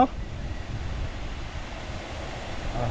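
Water rushing down from high on a mountain beside a highway makes a continuous broadband roar. It stays steady throughout and swells slightly near the end.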